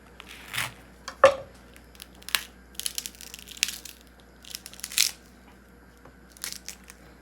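A knife cuts into an overgrown, hard okra pod, making several crisp, close crunches and cracks spaced irregularly amid quiet handling noise.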